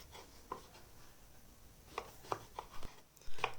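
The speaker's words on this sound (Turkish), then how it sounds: "Patlıcanlarımı küp küp doğrayacağım." A knife dices eggplant into cubes on a board in a few scattered, quiet cuts, close and unhurried, with no talking.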